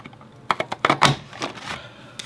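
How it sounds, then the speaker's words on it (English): Paper punch crunching down through a thick stack of scrapbook paper, a cluster of sharp clicks and crunches in quick succession, then a fainter click at the end. "This is punching a lot of different pieces, so that's why it makes that huge crunch, crunch, crunch sound"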